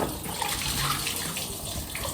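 Rinse water sloshing and pouring as a bucket is tipped out while clothes are hand-washed, a steady close splashing rush lasting the whole moment with no talking.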